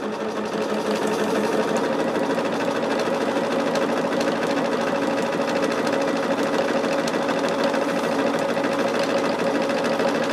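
Sewing machine stitching continuously at a steady fast pace, a close mechanical whirring rattle that holds the same rhythm throughout without pauses.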